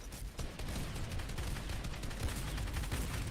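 Gunfire rattles in a Fortnite trios match during a competitive esports final, with dense bursts of shots over a constant noisy game mix.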